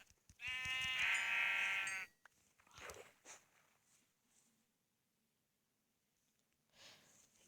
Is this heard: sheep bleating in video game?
yes